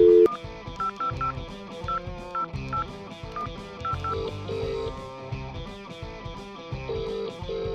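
A telephone is dialed as a run of short, evenly spaced keypad beeps over busy background music, with no talk.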